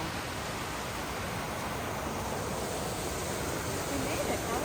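Steady rushing of the small Trillium Falls waterfall, a broad continuous wash of water that holds even and fairly loud, with a voice faintly present beneath it.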